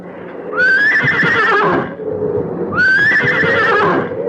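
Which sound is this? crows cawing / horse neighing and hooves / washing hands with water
horse neighing and hooves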